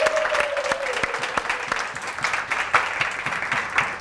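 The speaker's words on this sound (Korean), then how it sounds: "우리 어저께 수고하신 분들을 위해서 박수 한번 쳐주시기 바랍니다." A congregation claps continuously at a Christmas church service, a dense, even round of applause from many hands filling the room.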